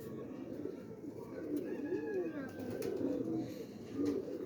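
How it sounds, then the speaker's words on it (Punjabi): Pigeons coo softly in a loft, their low repeated rolling calls rising and falling, faint and close, amid a quiet background murmur. "ਕਬੂਤਰ ਪਏ ਆ ਸਾਰੇ ਤੁਹਾਡੇ ਸਾਹਮਣੇ ਹੀ ਆ ਜਨਾਬ।"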